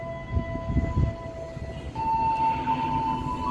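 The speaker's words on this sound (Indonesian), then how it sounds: "Kita sabar dulu, kita tunggu keretanya merapat stasiun Cikampek." A vintage 1938 train pulls into Cikampek station on the Jakarta–Cikampek line, its sustained, steady horn tones riding over a low rolling rumble that grows fuller as it comes closer.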